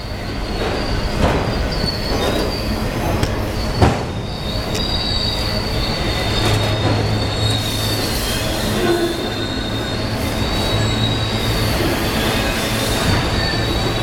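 A BNSF freight train rolls past about ten feet away, its wheels squealing with high, sustained metallic tones over loud rumbling and rail clatter, continuous and close throughout.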